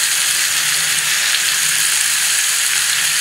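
Tomatoes hit a hot frying pan for pav bhaji, producing a loud, steady, close sizzle that holds unbroken throughout with no voices.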